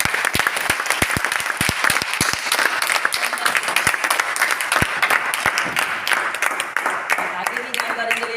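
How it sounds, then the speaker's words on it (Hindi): Audience applause welcoming a guest speaker to the stage at a Hindi-language gathering: dense, loud, sustained clapping fills the whole stretch, with sharper individual claps standing out early on. "आप लोगों की जोरदार ताली के बीच में"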